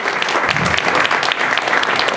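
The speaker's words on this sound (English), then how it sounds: "We'll still give her a round of applause." An audience at a get-out-the-vote political rally applauds steadily, a dense, even wash of clapping heard at moderate distance with no talk over it.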